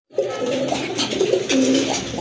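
Rajgolla pigeons cooing close by, a pair of soft, throaty, repeated rolling coos that stand out clearly over a low background hum.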